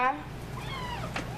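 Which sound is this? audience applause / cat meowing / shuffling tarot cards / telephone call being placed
cat meowing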